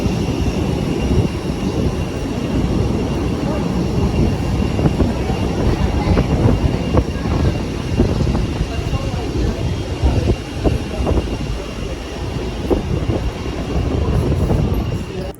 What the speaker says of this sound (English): Terrible landing.